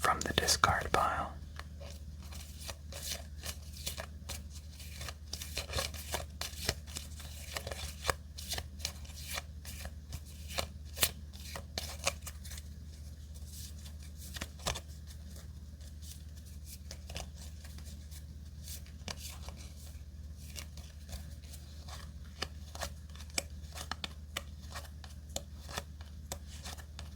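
Playing cards in a fantasy card battle game are handled and shuffled close up, with crisp repeated flicks, slides and riffles throughout and a denser burst at the start, under a soft whispering voice.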